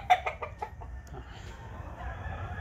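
Yellow-legged Kelso chickens crossed with Albany give a few quick, close clucks at the start, then fade into faint, quiet farmyard background.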